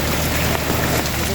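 Steady rain patters on a surface outdoors as a broadband hiss, with a faint bit of wind noise on the microphone.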